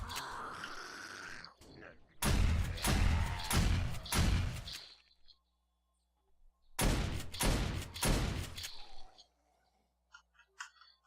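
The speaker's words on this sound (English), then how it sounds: "it does look like the auto turret takes care of them fastest" An auto turret fires at zombies in 7 Days to Die Alpha 16, with two loud, sustained bursts of dense rapid gunfire separated by a quiet gap and a few faint ticks afterward.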